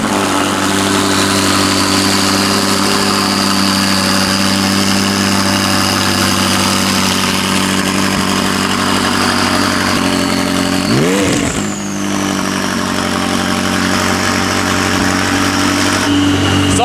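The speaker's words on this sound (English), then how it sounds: "cold startup on the 600LT with the new exhaust" McLaren 600LT fitted with a new exhaust, downpipes and tune, cold-started and settling into a steady, loud, droning idle with a brief blip near the end, heard close and alone.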